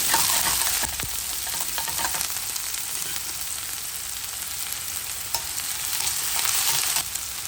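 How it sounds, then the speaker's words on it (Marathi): Onion sizzles steadily in hot oil with popping mustard seeds as a Konkani fish thali is cooked, with stirring scrapes over a constant, fairly loud frying hiss and no talking. "कांदे तळसून घेवप आनी रोखडेच घालप मुळो"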